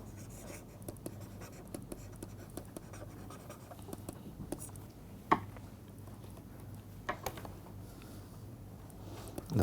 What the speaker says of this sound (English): So let us write down a few definitions.